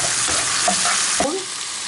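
Seafood sauce with a small spoonful of lemon simmering in a pan, a steady close hiss with a couple of brief stirring scrapes, no talking.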